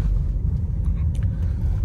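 A Kia Seltos rumbles along as it pulls up toward the parking area at Nandi Hills, a steady low engine and road drone heard close and loud.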